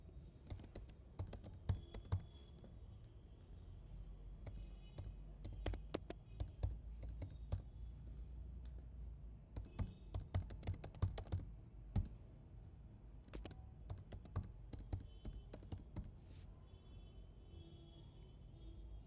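Someone types registration details on a computer keyboard: irregular bursts of quiet key clicks with short pauses between, close by in a quiet room.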